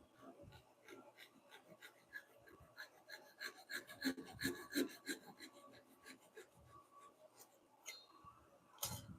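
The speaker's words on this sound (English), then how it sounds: "Yay for the Japanese razor saw." A Japanese razor saw cuts through wood for a handcrafted mallet in a home workshop, giving a steady series of close, rasping strokes that speed up in the middle and end with a sharp final burst.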